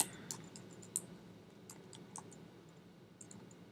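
Quiet keyboard typing of a web address: scattered light key clicks, some in quick pairs, over a steady low background hum, no speech.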